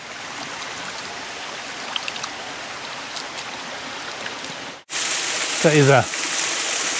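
Small waterfall rushing in a gorge beside a campsite in Lofer, Austria: steady splashing water noise, faint at first, then loud and close after a sudden cut, with a short voice over it.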